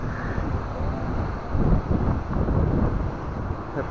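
Strong, gusty wind on a seaside boulevard buffets the microphone in a continuous rumbling roar, with no voices.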